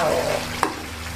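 Squid and mushroom gulai is stirred in a hot pan, with a steady soft sizzle and one short, sharp scrape of the utensil partway through.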